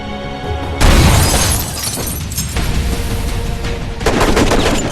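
A hail of gunfire erupts in a movie shootout as a bodyguard closes in on a hiding spot: dense, loud bursts of rapid shots with shattering impacts, easing briefly and then surging again.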